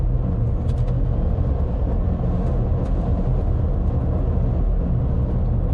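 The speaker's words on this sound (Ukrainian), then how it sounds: "Чутно це характерний гул електромотору" A 2022 Toyota bZ4X 2WD drives at around 70 km/h, its cabin filled with a steady low rumble of road and motor noise with a faint electric hum and no speech.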